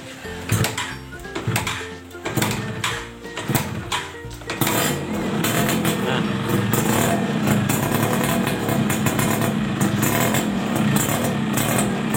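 A Yamaha F1ZR two-stroke motorcycle engine with a lean carburettor setting sputters with a few uneven cranking bursts, then catches and settles into a steady, loud idle.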